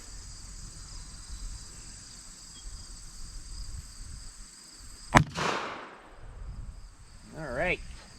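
A Ruger Security 380 pistol fires a Browning X-Point Defense round into water jugs outdoors: one sharp loud crack with a brief echo tail, over a steady background of insects chirping.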